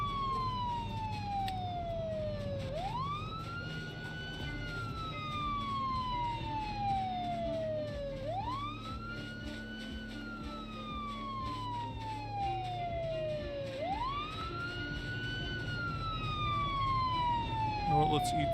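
A wailing siren in the zombie survival game Project Zomboid rises and falls in long, regular sweeps three times over, carrying clearly above a low background rumble as a person talks over it.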